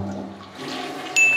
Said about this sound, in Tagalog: gumagana ba yung flush?